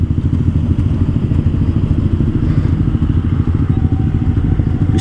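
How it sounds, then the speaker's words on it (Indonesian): A motorcycle rides along a road with a loud, close, chugging engine throb and rattly clatter, continuous throughout with no speech. "kita bakal tes sama motor di sebelah gue ini"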